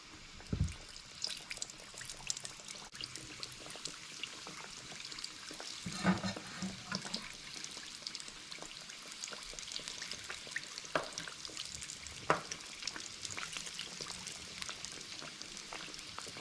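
Mandazi dough, a lemon-flavoured African fried sweet bread, crackles and sizzles steadily in hot oil, a dense continuous fry with occasional sharper pops and no voices.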